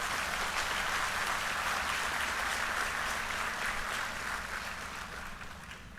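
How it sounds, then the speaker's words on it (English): A convocation hall audience gives the Chancellor a sustained round of applause, dense and steady clapping from a large crowd that slowly fades toward the end. "Can I request this august assembly to give a loud round of applause to"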